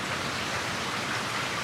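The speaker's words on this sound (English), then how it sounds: "Listen to the rain, thunder, and how good it makes the cool air smell." Steady rain pouring outside a screened-in porch in summer, a dense, even hiss of falling drops heard alone with no voices.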